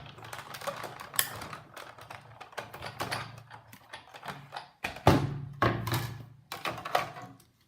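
A die cutting machine rolling card through standard cutting pads for a thank-you card: rhythmic clattering and mechanical clicks with thunks, close and irregular, louder mid-way, with no talk.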